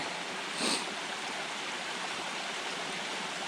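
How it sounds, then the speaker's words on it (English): A small waterfall on a brook along a hiking trail near Greeley Pond gives off a steady, close, hissing rush of falling water, with a brief louder splash early on. "we've got this nice waterfall right here."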